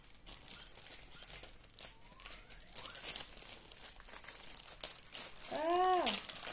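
A paper envelope holding a diamond painting kit is torn and crinkled open in a series of close crumpling rustles, with a brief whistle-like chirp toward the end.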